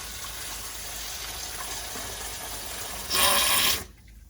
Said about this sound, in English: pump this runoff water, pump it in an empty pot